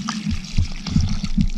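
Water running and gurgling from a mountain water line in the Ecuador páramo, a close, loud, uneven splashing trickle with low burbling pulses.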